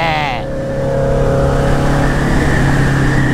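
Turbocharged Yamaha XJ6 motorcycle accelerating hard at night, its loud engine note holding a steady strained drone with a faint turbo whine, while people talk over it.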